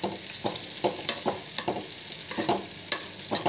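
A spoon scrapes rhythmically through fried drumstick and onion with chili powder in a pan, about two strokes a second over a continuous close sizzle, with no voices.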